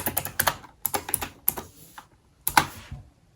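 Keys clatter on an old laptop keyboard in quick irregular bursts of taps with short pauses, close and clear, no voices.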